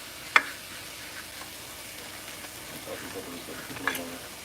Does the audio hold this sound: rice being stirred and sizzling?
yes